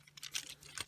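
A plastic panel on a Transformers Earthrise Optimus Prime toy clicking into place, a quick cluster of faint, close, light plastic clicks and rattles lasting under a second.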